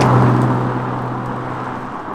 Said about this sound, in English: this vehicle is still equipped with standard exhaust, and as you can hear, it sounds really, really nice